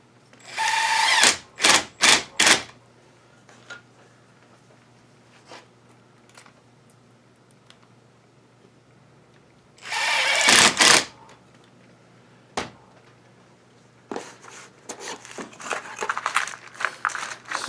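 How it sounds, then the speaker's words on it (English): A power drill drives screws into a large maple wooden vase in loud, whirring bursts: a cluster of short pulses, a longer burst, then a run of quick stop-start spurts. The bursts are separated by quiet gaps with a low steady hum underneath. "now let's just shoot some screws in"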